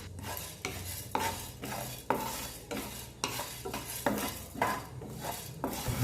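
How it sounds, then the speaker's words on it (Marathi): Coriander seeds and black peppercorns dry roasting in a pan over medium flame, stirred with a utensil in regular scraping strokes roughly every half second, with a steady dry rustle and close, clear scrapes against the metal. "अशा प्रकारे मीडियम फ्लेमवर व्यवस्थित परतून धणे व मिरी भाजून घेतल्यावर"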